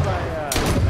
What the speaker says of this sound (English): I got another one shooting